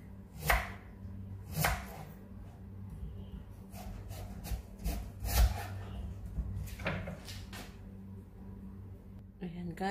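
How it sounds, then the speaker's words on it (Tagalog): A knife chops sweet potato (kamote) on a board while cooking camote cue, with irregular, fairly close knocks spaced through the stretch amid a little kitchen clatter. "tapos ko nang nihiwa ang kamote"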